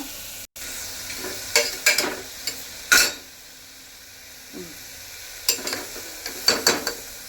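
Vegetables for a soup fry in a pan with a low background sizzle, broken by a few sharp spoon scrapes and clatters in short clusters; no speech.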